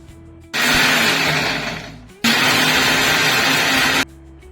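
A kitchen blender purees green chilli, ginger, garlic, tomato and yogurt in two loud, steady grinding runs with a short pause between them, close and alone.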